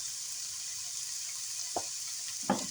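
Onion sizzling in hot oil for a stuffed shells filling, a steady broadband hiss with a couple of faint clinks or stirring knocks on top, quiet and close.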